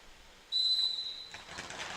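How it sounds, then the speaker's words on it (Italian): Referee's whistle at a roller hockey match, a single sharp blast lasting about three quarters of a second, clear above the arena ambience, followed by rising crowd and rink noise. "fischio dell'arbitro"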